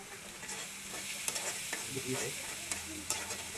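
Dried fish chorchori stirred and frying in a pan, a continuous close sizzle with scraping spoon strokes and light clicks recurring every half second or so, with no voices.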